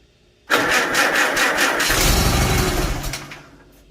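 A Farmall Super A tractor engine starts abruptly and runs loud and close, its rumble deepening and swelling as the throttle opens, then easing off toward the end.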